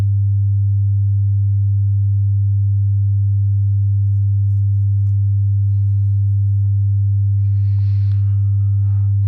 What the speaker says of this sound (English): it's impossible for a player to play this sine wave back as gapless via some DSP mumbo-jumbo